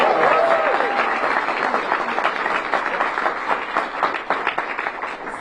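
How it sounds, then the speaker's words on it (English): An audience at a mayoral bill-signing ceremony breaks into steady, sustained applause, many hands clapping together at moderate loudness for several seconds. "Please give her a big round of applause."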